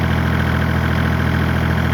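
A 1985 Kubota L2550 tractor engine runs steadily at idle, a constant low, even mechanical drone held at the same level throughout with no voices.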